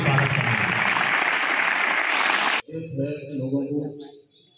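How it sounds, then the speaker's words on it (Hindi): A school audience applauds guests seated on stage at an anti-drug awareness event, a broad wash of dense clapping for about two and a half seconds that cuts off abruptly and gives way to a voice speaking. "मैं विद्यालय परिवार की ओर से अनुरोध करूंगा कि सभी अतिथियों का जोरदार तालियों से स्वागत करें।"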